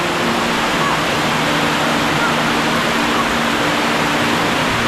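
A waterfall swollen after heavy rain, a dense continuous roar of falling water, loud and steady with no break.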